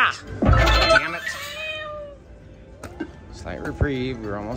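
A cat meows in a drawn-out, rising and falling call, then meows again shortly after, with small clinks in between, from the Whisker Wheels slot machine.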